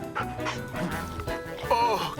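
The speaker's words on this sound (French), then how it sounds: "tu es un bon chien" A dog in the French-language animated cartoon Bob the Builder gives several quick yips and whimpering barks close up, mixed with busy cartoon sound and some talk.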